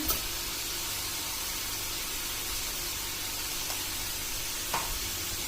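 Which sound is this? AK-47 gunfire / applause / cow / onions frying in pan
onions frying in pan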